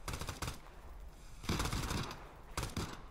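Bursts of automatic gunfire from Arena Breakout Infinite rattle in three clusters of rapid shots, fairly distant and moderately loud, separated by short quiet gaps with no talking.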